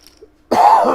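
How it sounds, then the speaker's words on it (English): A single harsh cough from someone who is ill, loud and close, bursting out after a near-silent stretch. "so excuse me if I cough."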